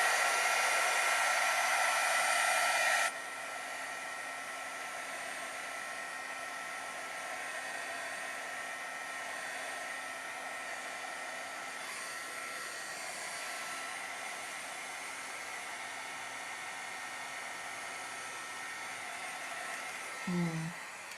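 Hair dryer blowing over watercolor paint, a steady close whirring drone that shifts to a lower, softer setting after a few seconds and runs on continuously before a brief clunk near the end.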